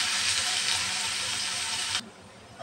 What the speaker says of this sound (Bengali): এখন দিয়ে দেব পেঁয়াজ কুচি। পেঁয়াজটা ভালোভাবে ভেজে নেব।